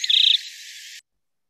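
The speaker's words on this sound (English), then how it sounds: "that's basically the same theme you'll hear in gambeli, which is the next song that we'll play" White-crowned Sparrow of the gambeli subspecies sings one short song phrase: a clear, high whistle followed by a thinner buzzy trill, close and distinct, lasting about a second before silence.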